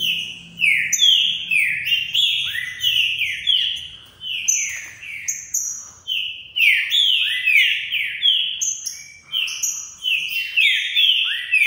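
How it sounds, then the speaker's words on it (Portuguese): Small birds chirp and trill continuously and rapidly, several voices overlapping in a loud, close chorus. "olha o show desses passarinhos aí, cara"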